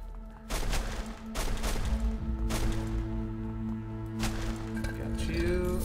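Rapid video-game gunfire rattles in repeated bursts from Book of Demons, sharp cracks punching through a dense layered soundtrack with sustained tones underneath.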